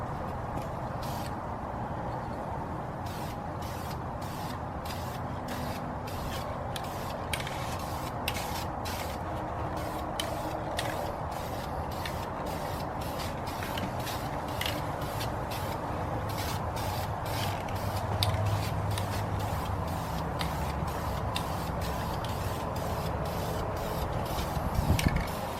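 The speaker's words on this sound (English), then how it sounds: "Before painting, you just want to give it a quick spray to vent off anything at the top to clean up the tip." Aerosol primer sprayed onto aluminum wheels with curb rash on a BMW E90 335i, a steady continuous hiss broken by repeated short bursts, close and fairly loud, with no talking.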